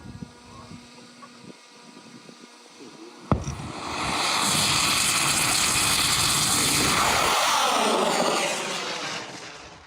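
A winged drone missile launches with a sharp bang, then a loud sustained engine roar that holds steady and starts to fade as it flies off, after quiet ambience.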